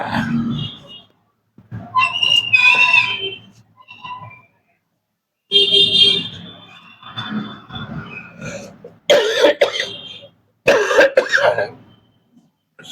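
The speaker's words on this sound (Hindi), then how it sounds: "भाई प्रदूषण की वजह से खांसी हो रही है।" Several coughs and throat-clearing bursts in an indoor room during wall clock repair, set amid heavy air pollution in Delhi, coming in separate loud fits with short pauses between them.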